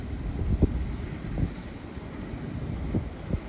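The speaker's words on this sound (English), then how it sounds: "The wind is down to 18 miles an hour." Wind blows outdoors at Rockport, Texas, on the coast, in a steady low roaring rush with buffeting against the microphone and a few soft gusty thumps.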